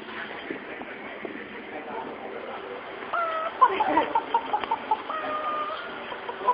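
A man imitates a chicken with a run of clucking sounds, moderately loud over a steady background hum and murmur of other voices.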